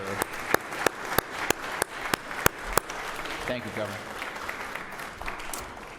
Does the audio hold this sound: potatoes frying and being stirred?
no